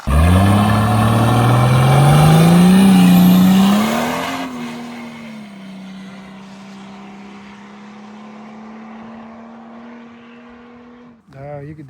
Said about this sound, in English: You could definitely tell when the turbo spooled.